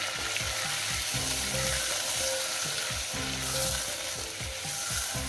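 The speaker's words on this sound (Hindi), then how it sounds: "और अब इसको मैं अच्छा से भून लूँगी।" Chicken pieces fry with ginger and garlic in a pan for a shalgam palak gosht, a steady loud sizzle with stirring scrapes throughout, no talking.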